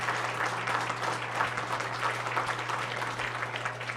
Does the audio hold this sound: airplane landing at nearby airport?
no